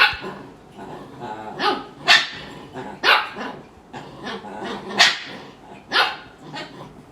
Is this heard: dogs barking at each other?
yes